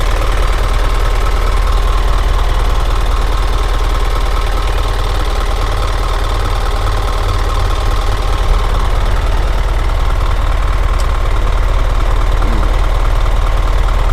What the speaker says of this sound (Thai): เดี๋ยวเรามาชมสภาพเครื่องยนต์ของรถคันนี้กันนะครับ